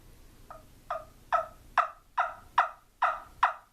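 A trumpet turkey call sounding a yelp series of eight close, crisp notes that start soft and build louder, spaced in a steady rapid rhythm with nothing else audible.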